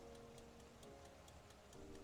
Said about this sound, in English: You actually might be able to hear it ticking away.